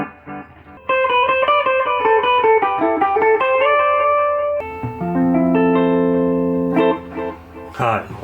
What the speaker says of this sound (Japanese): あとはディレイですね。